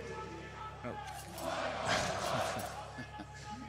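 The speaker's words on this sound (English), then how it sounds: "Need to keep that crowd nice and loud." Arena crowd at the IEM Sydney CS:GO esports event swelling into a cheer and roar midway, fairly distant, with a commentator talking over it.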